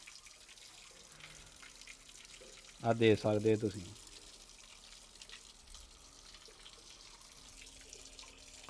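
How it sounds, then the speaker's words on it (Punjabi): Water pumped by a 12 V DC pump gushes in a steady, even hiss through the whole stretch, with someone briefly speaking over it partway through. "ਇਹ 12 ਵੋਲਟ ਦੇ ਪੰਪ ਦਾ ਪ੍ਰੈਸ਼ਰ ਆ ਪਾਣੀ ਦਾ"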